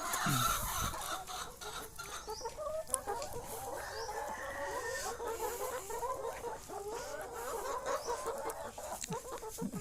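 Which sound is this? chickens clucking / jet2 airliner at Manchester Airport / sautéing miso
chickens clucking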